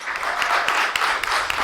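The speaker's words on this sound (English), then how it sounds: "Give another round of applause for Theo Bellavia-Frank." An audience at a poetry reading claps for a poet, a brief, dense round of applause with a few sharper individual claps standing out near the front.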